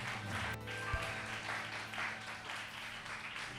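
A church youth congregation at a Korean worship service applauds in a soft, continuous patter of clapping from a moderate distance, with a brief thump partway through and a low background hum.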